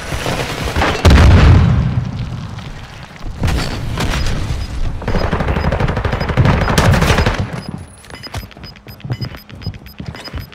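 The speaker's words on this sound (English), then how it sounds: "Taking gunshots!" Loud bursts of gunfire in the video game Warzone 2.0, rapid shots in several volleys with booming impacts, fading to quieter scattered sounds near the end.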